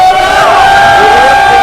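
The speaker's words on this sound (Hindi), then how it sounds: "जोरदार तालियां और हल्ला एकदम।" A crowd at a launch event for a Bhojpuri song cheers loudly, with sustained whoops and shouts ringing over a dense, continuous roar.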